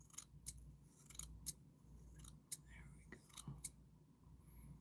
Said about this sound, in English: Scissors is fine with a beard